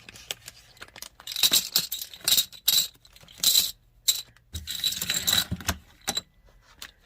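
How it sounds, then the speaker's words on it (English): Plastic planner discs clinking and shuffling as they go back into a crinkly bag, irregular bursts of clattering and rustling with short pauses between, close and alone. "I'm just going to stick them back in this bag, and I'm sure the crinkly is lots of fun."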